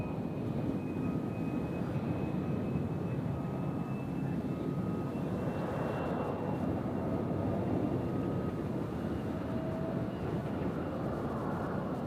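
Southwest Airlines airliner at Nashville International Airport, a steady broadband engine roar holding throughout with faint tonal whines drifting across, moderately distant and continuous.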